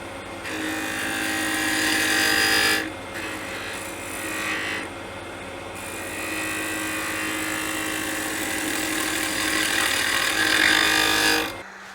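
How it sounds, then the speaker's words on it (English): A Forstner bit drilling out the center of a wooden gnome on a lathe gives a loud, continuous grinding whir, with two short dips in intensity before it stops abruptly near the end. "we're going to use a Forstner bit to remove some of the material from the center"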